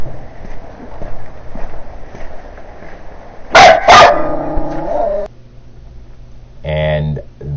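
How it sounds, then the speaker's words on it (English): Small yappy dog of about six pounds barking in short high bursts, two sharp loud yips midway and another cluster near the end, over a steady background of talk. "this dog is what I consider a yip dog. Probably weighs about 6 pounds, and it barks day, night, day"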